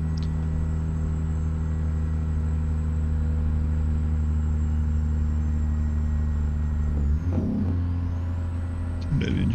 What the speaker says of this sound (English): Turn that engine brake off.